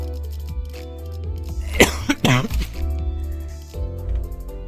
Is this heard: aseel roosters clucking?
no